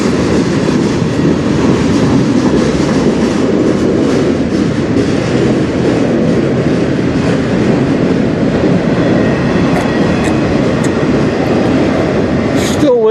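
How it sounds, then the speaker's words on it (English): A long freight train loaded with potash rolls steadily past at close range, a loud continuous rumble of wheels and rail cars with faint clickety-clack throughout and a brief squeal near the end. "There's all the potash, so definitely the 301. This is the first train."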